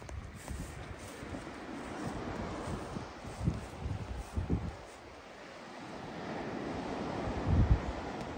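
Surf washes steadily onto the shore at Saltwick Bay in Whitby, North Yorkshire, under a constant rush of wind buffeting the microphone, with several louder gusts swelling and fading.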